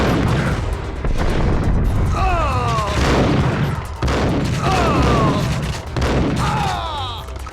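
Rapid gunfire from the Max Payne game on PS2, played on Android, bursts of loud repeated shots crackling over a dense game soundscape, with brief voices in the mix.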